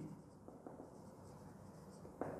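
Soft scratches of writing on a board during an ionic equilibrium chemistry lesson, quiet and intermittent with a slightly sharper stroke near the end and no speech.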